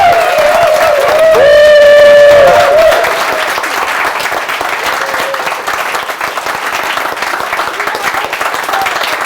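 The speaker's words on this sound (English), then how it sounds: "one big applause for Antonia" An audience at a Toastmasters speaking event gives a speaker a round of applause: a loud, dense wash of clapping that swells over the first few seconds, then carries on at a lower, even level.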